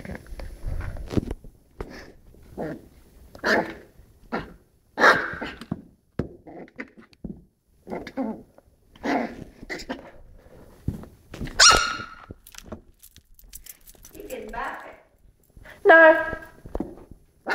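A poodle puppy barks repeatedly in short, sharp bursts close by, with occasional whimpering sounds between barks.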